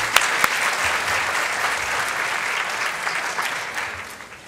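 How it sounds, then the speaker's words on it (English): An audience at a medical seminar on music as medicine applauds the presenters with a full, continuous round of clapping that stays steady, then gradually fades at the end. "So let's give them a round of applause."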